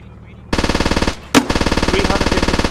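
Rapid automatic machine gun fire rattles during a platoon's weekly drill in an open field: loud, close bursts with a fast, even rhythm, a brief break, then one sharper shot before the steady firing resumes. No voices.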